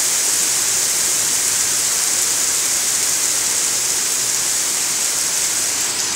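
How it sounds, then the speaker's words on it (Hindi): Steady rainfall pouring down outdoors on India's 78th Independence Day, a dense, continuous hiss that stays even and close throughout with no voices. "बढ़िया पानी पड़ गया"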